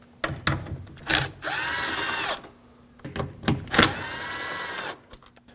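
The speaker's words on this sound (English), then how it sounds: "We can go ahead and remove these 10mm nuts." A cordless power tool whirs in two sustained bursts while removing 10mm nuts from a 2016-2022 Honda Pilot side mirror, with clicks and handling knocks between runs, close and alone.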